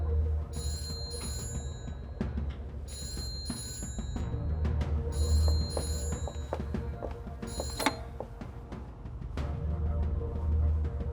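A telephone bell rings in repeated bursts of about a second each, four rings in a row, over a low engine hum inside a taxi.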